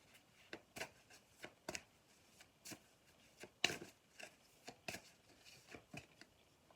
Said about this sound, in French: une petite carte, s'il vous plaît, Mehdi, pour la synthèse